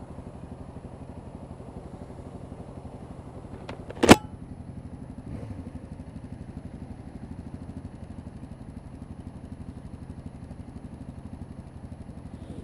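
A Yamaha FZ6R motorcycle engine runs at a steady low hum during a test ride, with a brief sharp clack partway through and no talking.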